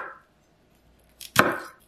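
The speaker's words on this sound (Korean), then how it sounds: "브로콜리는 작은 크기로 잘라줄게요" A knife chops broccoli into small pieces on a board: two quick soft taps, then one sharp, solid chop, close and alone in an otherwise quiet kitchen.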